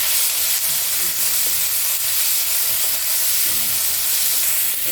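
Potatoes and cauliflower seasoned with turmeric and salt sizzle in hot oil, a dense continuous close-up hiss with faint stirring scrapes underneath.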